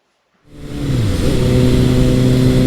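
A 2018 Suzuki GSX-S750 motorcycle engine starts up and revs to a steady, loud, close drone as the bike pulls away, with no talk.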